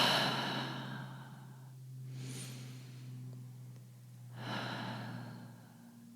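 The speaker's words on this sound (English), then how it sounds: "Take 5 deep breaths in and out." A person takes slow, deep breaths, audible as long airy inhales and sighing exhales in a calm, unhurried rhythm over a faint steady low hum, with no words spoken.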